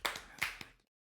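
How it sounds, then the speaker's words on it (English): Three quick hand claps from one person, close and crisp, with a brief trailing tap before silence. "I'll give myself applause for that one."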